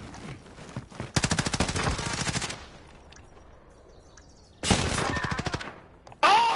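Rapid automatic gunfire in a bomb-defusal video game after the bomb is planted: two long bursts of fast rattling shots, then a third short one starting at the end, fairly close and loud.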